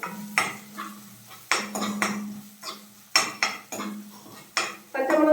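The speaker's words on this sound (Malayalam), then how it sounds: "പച്ചമുളക് കൂടെ ചേർത്ത് നമ്മൾ നന്നായിട്ടൊന്ന് വഴറ്റി കൊടുക്കാം." Onion and green chillies sautéed in a pan for a squid curry, with a steady low hiss under repeated sharp clinks and scrapes of a spoon stirring against the pan, close and fairly loud.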